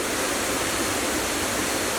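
Kima Atas waterfall near Manado pours in a dense, steady roar, loud and close with no break, and no voices are heard over it.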